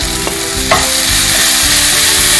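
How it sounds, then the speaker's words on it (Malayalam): Onion sautéing in a pan with crushed ginger, garlic and chopped green chilli for a stuffed bun filling, with a steady close sizzle and a few sharp scrapes of a spatula stirring through. "ഇത് നന്നായിട്ട് മിക്സ് ചെയ്തിട്ട് ഒന്നുകൂടെ വഴറ്റി കൊടുക്കാം"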